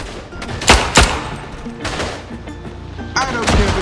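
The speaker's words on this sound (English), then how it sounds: "I'm gonna shoot them." Gunfire in the World War I shooter game Verdun: a few sharp shots stand out amid a busy, noisy battle mix, with faint talk and other game sounds underneath.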